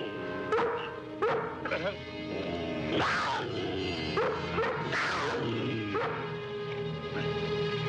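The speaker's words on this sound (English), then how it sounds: "That's a dog. Keep him away." A dog from a 1962 Lassie episode barks and yips repeatedly in short bursts, close and fairly loud, with a whimpering edge, mixed with people talking nearby.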